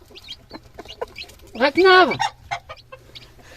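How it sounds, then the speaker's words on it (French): A small black rooster clucks and squawks loudly in one harsh burst near the middle, looking for a fight among Pekin hens, with a man calling out and talking quietly around it. "j'ai mon coq qui est en train de chercher la bagarre"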